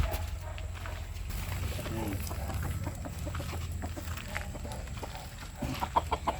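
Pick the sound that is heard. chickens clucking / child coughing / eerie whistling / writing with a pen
chickens clucking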